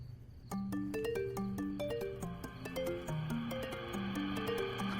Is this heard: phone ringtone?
yes